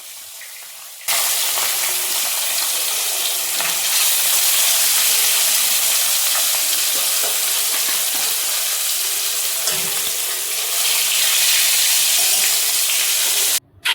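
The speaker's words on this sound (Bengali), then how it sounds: "তো চলো মাছটা ভেজে নিই" Fish pieces, tail and body cuts, dropped into hot oil and frying with a sudden loud, sustained sizzle that holds steady for several seconds, no voices.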